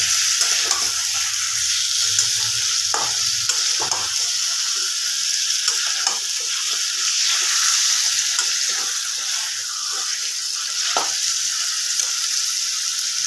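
Chicken being kosha-style stir-fried in a pan over raised heat: a loud, dense, continuous sizzle with frequent stirring scrapes and clatters throughout, and no voices.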